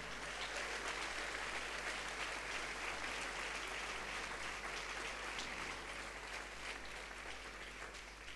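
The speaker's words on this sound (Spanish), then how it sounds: "Dale un fuerte aplauso al Señor." A church congregation bursts into loud, sustained applause, a dense wash of clapping filling the space evenly for the full stretch with no voices rising above it.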